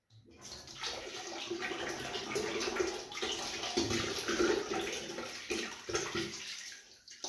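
Water poured from bowls into a bathtub while sterilising beer bottles, making a continuous splashing gush with small gurgles and knocks, fairly close and soft in level.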